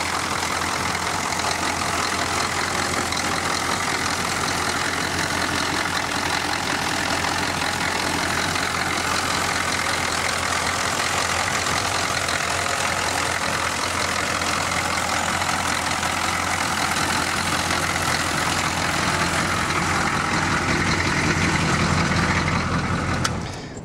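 A 1991 Chevrolet Suburban square-body diesel engine idling steadily with fresh batteries, a continuous loud rumble and clatter heard up close for over twenty seconds, alone without talk.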